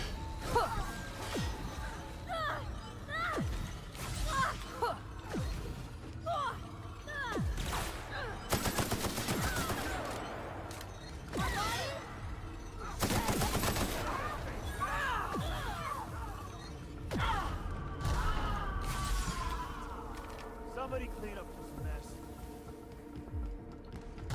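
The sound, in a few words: gunfire in the video game The Outer Worlds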